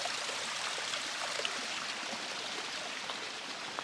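A stream runs beside a Pacific Crest Trail hiking path, giving a quiet, continuous babble and trickle of flowing water with small splashes scattered through it.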